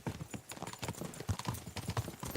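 Steel-shod horse hooves clip-clop in a rapid, steady rhythm in the medieval game Kingdom Come Deliverance 2, close and moderately loud, with faint saddle and strap rattle and no speech.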